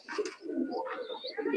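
Teddy pigeons coo in short, low rolling bursts close by, with some brief higher chirps and a faint voice mixed in.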